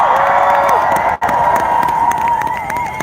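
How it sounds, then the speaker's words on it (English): A large outdoor crowd at a trucker convoy rally in Ottawa cheers and shouts continuously, loud and close, with a brief dip before the roar resumes and holds steady. "And I know you're cheering for the students,"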